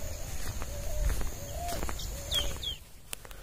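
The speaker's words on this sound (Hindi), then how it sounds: "पंछी का आवाज सुनने में बहुत ही अच्छा लगता है" Birds sing in a forest, with repeated chirps and short whistled calls over a steady background of rustling and faint movement, moderately close and without talk.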